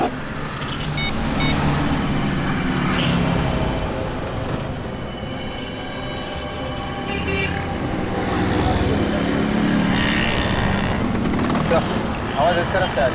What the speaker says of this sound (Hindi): घंटी की आवाज आसपास से आ रही है।